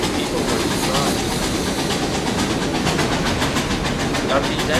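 Steam locomotives A&WP 290 and BM&R 425 run in Trainz Railroad Simulator 2019 through a blizzard, a loud continuous chuff and hiss with rhythmic rail clatter, under a steady voice talking.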